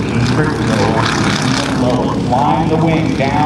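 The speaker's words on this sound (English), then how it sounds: "This is called the Harrier pass. Look how low he drags this airplane to the ground." A Blue Angels jet makes a low Harrier pass near the ground at an air show homecoming, giving a loud, steady engine roar that holds through the whole stretch under crowd noise and faint voices.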